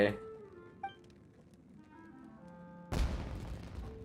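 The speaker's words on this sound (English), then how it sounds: "Was that an explosion? It sounded like fireworks." An explosion in Genshin Impact sounds like fireworks, with a sudden loud burst that follows quieter game sounds and a faint pop, and a voice speaks over it.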